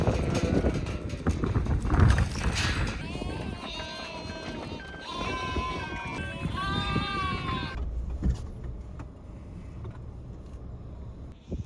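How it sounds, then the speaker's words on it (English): Aber Black ewes bleat in a field during lambing season: a run of several drawn-out, wavering calls in the middle, with a steady background of outdoor noise before and after. "but for today it is fairly busy and we want to get a few groups of sheep out"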